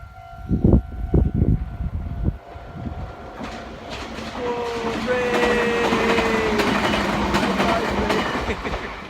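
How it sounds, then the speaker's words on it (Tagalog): A train rolls past outdoors in Japan, a steady broad rumble with rail clatter and a high squeal building from quiet and holding loud to the end, after some nearby knocking and handling sounds at the start. "Uy, na-train labay."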